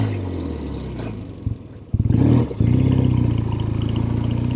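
A classic Triumph TR6R 650 motorcycle engine runs close by with a steady low, throbbing idle. It briefly revs and clatters partway through, then settles back into a loud, even rumble.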